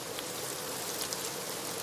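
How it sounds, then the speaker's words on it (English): Rain falling outdoors at night, a constant, even patter and hiss at moderate volume with scattered drop impacts and no voices. "Yes, it is raining."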